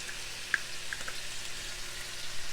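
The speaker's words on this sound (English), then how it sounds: "And you put your onions in with it and let it cook." Chopped onions sizzling in a pot for one-pot cheesy taco spaghetti, a soft steady frying hiss with a few small pops and crackles near the start, no talking.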